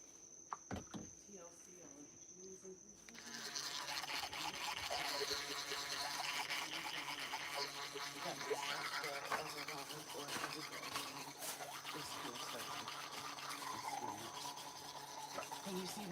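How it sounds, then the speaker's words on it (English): Solar-powered electric toothbrush brushing teeth: a click, then a steady high whirring buzz with scrubbing and rubbing texture, close and ongoing for many seconds. "gonna brush my teeth with this solar powered toothbrush"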